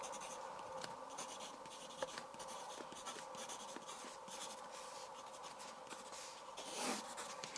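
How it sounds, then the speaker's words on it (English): Close, quiet scratching of a writing tool on sheet music as the word intervals is written out, with short continuous strokes and small pauses between letters. "Let's write first of all the word intervals."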